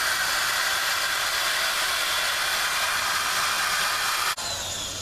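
A drill-driven 800 grit sanding pad works a plastic headlight lens, giving a steady, loud, hissing whir that holds evenly for several seconds before a brief dip near the end.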